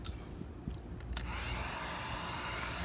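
A heat gun blows a steady airy hiss while warming the edges of vinyl tint on a 2015+ Dodge Charger tail light, opening with a few small clicks and knocks before settling into a constant whoosh.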